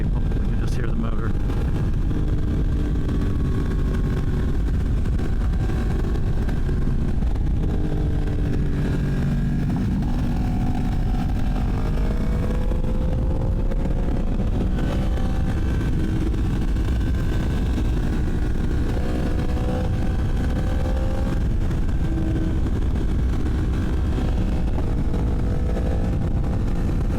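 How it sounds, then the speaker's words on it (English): Motorcycle engine droning steadily during a group ride, loud and continuous with wind rush, pitch gently rising and falling as the throttle changes, with occasional voices faintly underneath. "You can just hear the motor."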